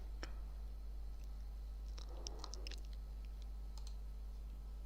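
A computer mouse gives a few faint, sparse clicks over a steady low hum while software installs, with a small cluster of clicks in the middle.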